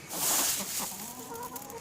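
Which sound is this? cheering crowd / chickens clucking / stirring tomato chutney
chickens clucking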